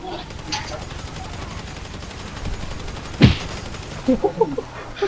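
Gunfire in the video game GTA V, a few sharp shots with one loud burst standing out, over game background sound and excited talk.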